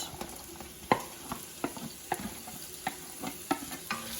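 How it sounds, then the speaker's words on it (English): Quiet, continuous sizzle of vegetables for risotto frying in hot butter, with soft stirring scrapes and occasional light clicks from a utensil. "our butter is currently sizzling"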